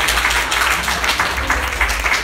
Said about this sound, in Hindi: बहुत जोर से ताली बजाओ